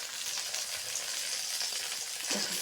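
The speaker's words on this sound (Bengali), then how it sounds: "এক পাশটা ভাজা হয়ে গেছে, এক পাশটা উঠেছি, আবার ভাজা চলছে" Puli pithe fry in mustard oil with a close, even sizzle and soft crackle, and a faint scrape near the end.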